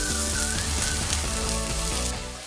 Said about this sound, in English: Add a couple tablespoons of olive oil, and then in go the vegetables.